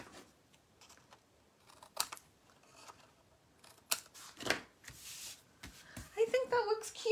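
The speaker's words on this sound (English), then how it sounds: "where's my regular scissors?" Scissors snip through paper scraps while trimming handmade tags and card elements, a few crisp cuts near the end after quieter rustling and handling noises, close and fairly loud.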